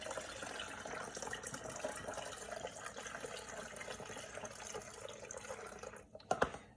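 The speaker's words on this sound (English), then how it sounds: "Now it's time for me to pour the rest of my rice water in my" Rice water poured into a bottle, a quiet steady trickle and splash of liquid running for several seconds before a few louder clinks and drips at the end.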